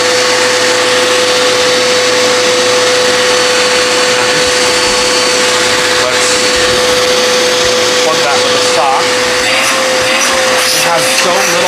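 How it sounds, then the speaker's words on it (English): A Dirt Devil Endura Max vacuum cleaner runs loud and close with a steady high whine and airy rush, continuous throughout, with faint handling noises near the end. "let's test the Dirt Devil's airflow from the hose. So when we turn it on,"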